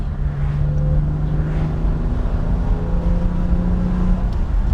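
A 1964 Aston Martin DB5 coupe's engine drones steadily on a farm road as the car runs up through the gears. The engine note drops and settles at a new pitch partway through, with no talk.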